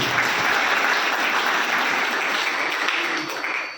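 Warm, steady applause from a temple congregation welcoming saints at a Swaminarayan mandir Annakut celebration, a dense clapping wash that holds and then starts to fade.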